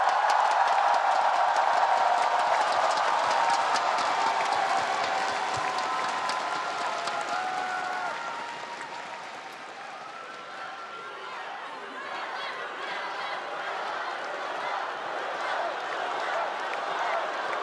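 A large esports arena crowd at the MSI Grand Finals between GENG and T1 cheers and applauds, a loud sustained roar of clapping that eases slightly midway and then swells again, with a voice speaking over it.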